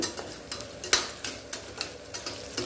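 Onions sauté in a pan for ghee rice while a spoon stirs them in quick, regular scraping strokes over a soft sizzle, close by and moderately quiet.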